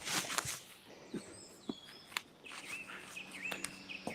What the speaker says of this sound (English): Hey, I hear birds.